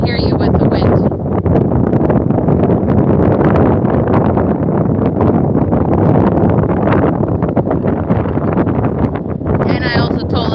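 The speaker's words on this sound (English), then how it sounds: "I don't think they can hear you with the wind." Strong wind buffets the microphone at a boat anchorage, a loud, constant roaring rumble that barely lets up, with a voice faintly audible beneath it.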